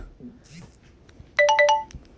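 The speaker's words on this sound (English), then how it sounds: "If you heard that, that was a notification on my phone" A short phone notification chime, a quick run of three or four bright electronic tones, rings out clearly after a quiet stretch with faint low background noise.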